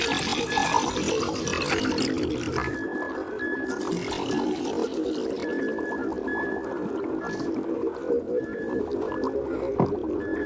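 Displaced water is poured onto one side of a balance scale, producing a steady trickling, gurgling flow at moderate level, near and continuous with no talk over it.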